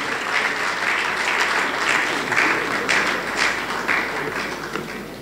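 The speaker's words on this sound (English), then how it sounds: "Please, a round of applause for him." A large audience at a Nigeria Police housing summit applauds, dense and sustained clapping filling the hall throughout at a steady, loud level.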